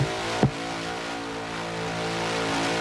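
A small TD Cortina carrying a 289 Windsor V8 idles and revs loudly at a car show and burnout event, a brief sharp blip near the start followed by a steady, rumbling hold, close and unbroken.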